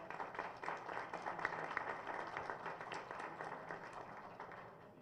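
Audience applause welcoming a constituent deputy at a December 2016 panel discussion, a steady wash of many hands clapping at moderate distance for about five seconds without a break.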